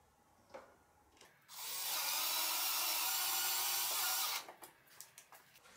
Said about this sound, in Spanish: yo termino de apretarlo con atornillador a batería